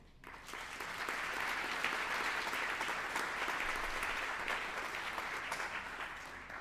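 Sustained audience applause at an induction ceremony, a dense steady wash of many hands clapping that holds at an even, fairly loud level for several seconds with no talking over it.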